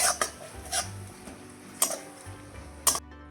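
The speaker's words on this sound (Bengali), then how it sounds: "এবার নাড়িয়ে চাড়িয়ে মিডিয়াম আছে আমি মশলাটা ভালোভাবে কষিয়ে নেব।" Spice paste frying in a pan with a splash of water, stirred with a utensil that knocks and scrapes against the metal in sharp, spaced clicks over a faint hum.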